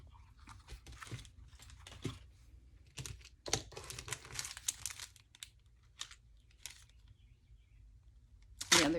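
Paper craft piece for a rabbit folio being cut down close by, a series of irregular crinkling, snipping and rustling bursts separated by quiet pauses.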